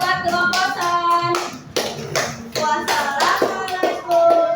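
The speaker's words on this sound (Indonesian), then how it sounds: "tepuk tangan buat kelompokan" Children in a third-grade classroom clap in uneven bursts after a group presentation, hands patting close to the microphone while faint young voices mingle underneath.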